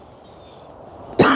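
A single sharp, loud cough from an adult with a cold, bursting out near the end after a quiet stretch of low background noise.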